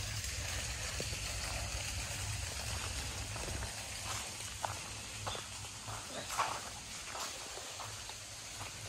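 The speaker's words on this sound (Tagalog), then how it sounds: "May narinig ako na tubig." A stream flows steadily on an autumn walk in Japan, a soft continuous wash of running water with occasional footsteps and small knocks over it.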